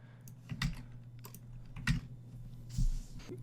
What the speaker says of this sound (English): And you also type in the new password.